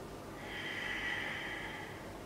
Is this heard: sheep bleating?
no